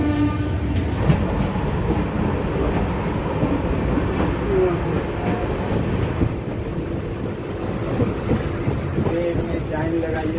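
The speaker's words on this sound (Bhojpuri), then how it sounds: "फ़िलहाल सिमरी बख्तियारपुर से ट्रेन खुल चुकी है" Rajya Rani Superfast Express train running on the tracks after leaving Simri Bakhtiyarpur, a loud continuous rumble and clatter heard from inside the moving carriage, with voices chattering underneath.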